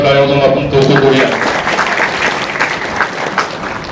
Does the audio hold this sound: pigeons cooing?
no